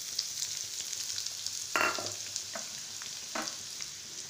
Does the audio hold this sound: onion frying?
yes